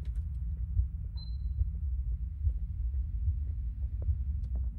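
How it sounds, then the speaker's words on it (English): A slow, steady thudding heartbeat in the horror video game Obsideo, deep and muffled, repeating low throbs under a dark ambient hum with small faint clicks scattered over it. "I hear a heartbeat on the."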